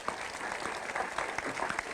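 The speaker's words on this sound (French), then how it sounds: "Vous pouvez les applaudir" Brief, fairly quiet applause from a municipal council audience in Dieppe greeting newly elected deputy mayors, a steady patter of clapping lasting under two seconds.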